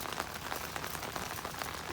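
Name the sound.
rain falling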